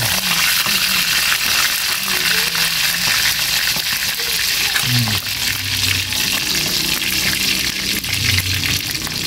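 Fish fries in a pan with fermented black beans, a loud continuous hissing sizzle that runs throughout, with faint low tones and clatter underneath.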